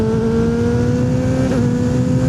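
A Kawasaki ZX6R (Ninja 636) sportbike engine howls at high, steady revs while riding through trees, a loud close droning whine with strong tonal harmonics and wind buffeting and no voices.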